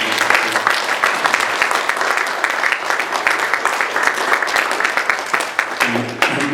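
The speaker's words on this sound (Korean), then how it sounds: "우리 하나님 앞에 큰 영광의 박수를 한번 보내드리겠습니다" A congregation at a church service gives loud, sustained applause, with dense rapid claps running unbroken for several seconds.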